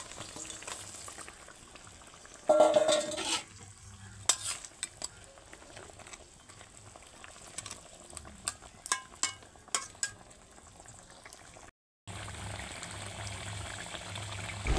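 Fish curry with milk cooking in a pan, a continuous bubbling sizzle with scattered clicks and stirring knocks, a louder burst early on and a short break near the end.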